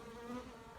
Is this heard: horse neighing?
no